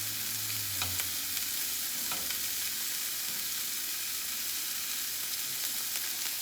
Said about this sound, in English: So we're gonna turn over, and we're gonna sear on the other side.